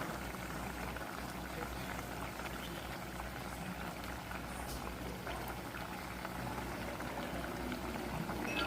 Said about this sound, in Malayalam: ഇനി മൂടി വെച്ച് നല്ലപോലെ തിളച്ച് കുറുകി വന്നതിന് ശേഷം മുട്ട ചേർക്കാം.